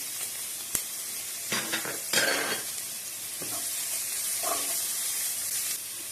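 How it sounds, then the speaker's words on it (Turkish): Chopped onions sauté in a hot pan for a spinach dish, giving a steady close sizzle with a few louder bursts of stirring and scraping, and no talking. "Soğanlarımızı biraz soteliyorum."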